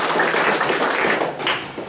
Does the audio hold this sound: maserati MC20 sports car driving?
no